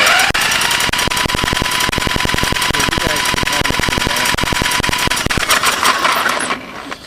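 A power drill whirs loudly and steadily up close, its motor buzzing with a rapid rattling pulse, then winds down at the end, while working on a 1984 Honda 200S with weak spark.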